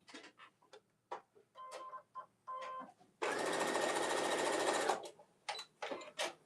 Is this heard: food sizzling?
no